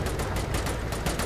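Rapid gunfire from armoured carriers moving through a desert training exercise in Tunisia, with dense repeated bursts over a loud, continuous rumble of engines, close and heavy.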